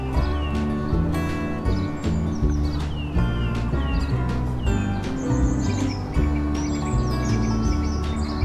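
A chickadee chirps repeatedly in short high notes at Iroquois Park on a January morning, heard over a dense, steady low-pitched background.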